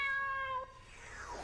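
A cartoon wind-up kitten gives a single close, drawn-out meow with clear tonal harmonics, breaking off abruptly partway through and fading into a faint hiss.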